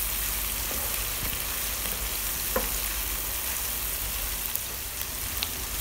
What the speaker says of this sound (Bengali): উল্টিয়ে পাল্টিয়ে আমি ভেজে নিতেছি।